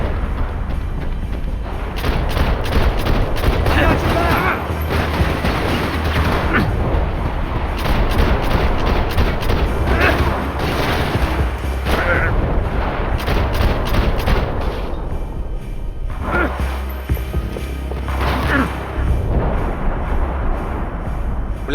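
Gunfire in the video game Max Payne 3, with loud, repeated shots and booming blasts in dense, overlapping bursts throughout.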